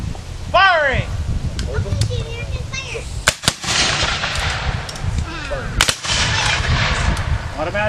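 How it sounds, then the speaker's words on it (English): Federal infantry reenactors fire muskets by file at a Civil War battle demonstration, several sharp, booming reports going off one after another at irregular intervals, with talking voices in between. "Firing by files from the right. Commence firing."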